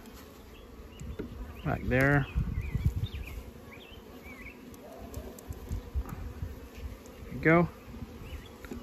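Honey bees buzz steadily while a small nucleus colony from a split is moved into a ten-frame deep box, with a low hum running throughout. Brief nearby voices speak over it.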